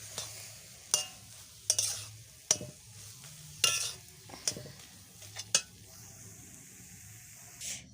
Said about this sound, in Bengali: মাখানোর পরে গরম কড়াইতে 2 থেকে 3 মিনিট একটু নাড়াচাড়া করে নেব।